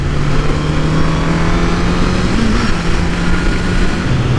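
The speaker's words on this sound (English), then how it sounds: "I got super derailed by by a really nice car" A car drives past with a loud, sustained engine roar and road noise, close and steady throughout, with no talking.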